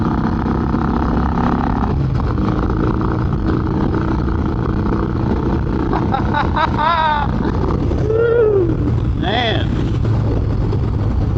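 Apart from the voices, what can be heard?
Indian motorcycle engine running with new carburetor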